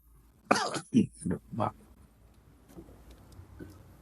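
A run of several harsh coughs in quick succession, fairly close, during a talk at a mosque gathering, followed by quieter throat noises over faint background hum.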